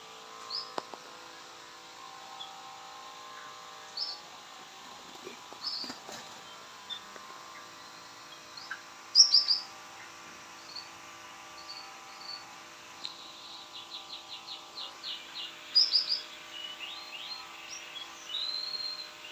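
Sooty-headed bulbuls (kutilang) chirp while bathing in a small aviary, faint scattered chirps and brief bursts over a steady insect-like drone, with no talking.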